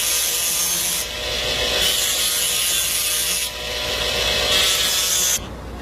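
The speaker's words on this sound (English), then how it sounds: "The button can then simply be twisted off and any remaining excess is dressed down with the disc." A rotary disc dresses down excess metal on a casting, giving a loud, close, abrasive grinding hiss in several sustained passes separated by brief dips.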